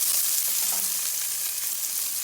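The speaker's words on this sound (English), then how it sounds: "so we're going to put in the onion" Onion frying in a hot pan with browned ingredients for a South Indian upuma breakfast dish, a steady bright sizzle with soft crackles, close and continuous with no talking.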